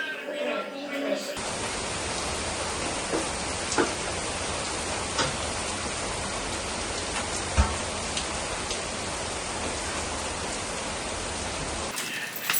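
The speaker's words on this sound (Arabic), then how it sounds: "بعد هذا تمطر والله" Steady heavy rain pours down in a dense, even hiss, with occasional louder drops and knocks, starting abruptly after a brief moment of talk and running continuously until it cuts off.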